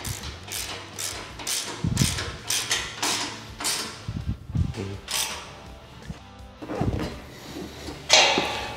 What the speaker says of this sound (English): So I'm gonna go ahead and fully tighten my hardware. It's gonna be a 5mm Allen and then a 13mm nut.